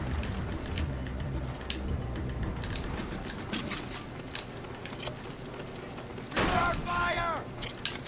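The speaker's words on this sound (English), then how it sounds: "it's best to first fire your guns in this game" Gunfire in the war shooter Frontlines: Fuel of War: a steady stream of sharp shots and bursts over a dense battlefield din, closing with a louder, nearer flurry of shots and mechanical clatter.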